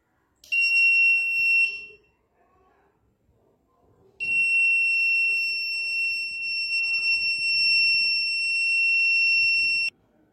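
An electronic vehicle reversing alarm from a hobby electronics project gives a piercing, steady high-pitched buzzer tone in two bursts: a short one of just over a second, then after a pause a long one lasting about six seconds, with quiet handling noises between.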